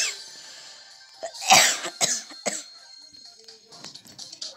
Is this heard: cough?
yes